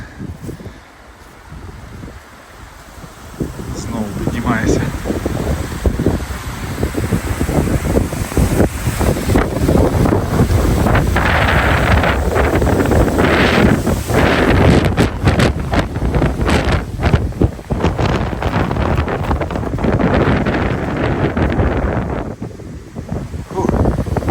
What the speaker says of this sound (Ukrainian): Але вітер був сильний